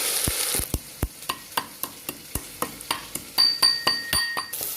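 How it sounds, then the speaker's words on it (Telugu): Ginger garlic paste and onions fry in a pan as a spoon stirs and scrapes, making a rhythmic series of sharp clinks against the metal over a hissing sizzle, close up with no speech. "అల్లం వెల్లుల్లి పేస్ట్ వేసుకొని బాగా కలుపుకోవాలి పచ్చివాసన పోయే వరకు వేయించాలి"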